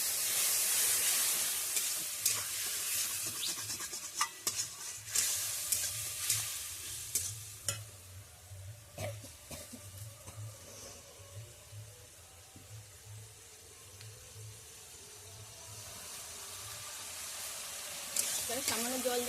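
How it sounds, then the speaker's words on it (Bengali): Jackfruit with spices and a little water sizzles and bubbles in a pan as it is stir-fried, a steady hiss broken by scraping stirs, with a person talking intermittently over it. "আর একটু সামান্য জল দিয়ে কষিয়ে নেব"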